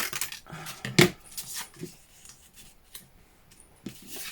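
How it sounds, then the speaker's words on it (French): Scissors snip a small scrap of paper for a memory-keeping craft project, a few crisp close cuts and rustles with quiet pauses between, no talking. "Je vais couper un petit bout."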